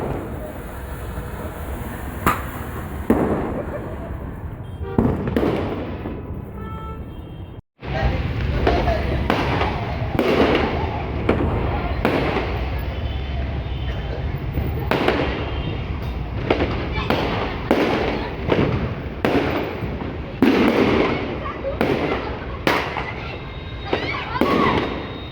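Firecrackers bursting during Diwali in India, a dense run of loud sharp bangs and pops, some near and some farther off, repeating irregularly over a steady crowd-like background with a brief dropout partway through.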